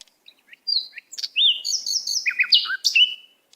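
Rufous Potoo calls heard alone, as a string of varied high chirps and quick whistled slurs in irregular bursts, clear and fairly close.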